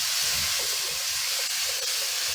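Small cut-up sausage links frying in a pan, giving a loud, steady sizzling hiss that holds evenly throughout with no talk.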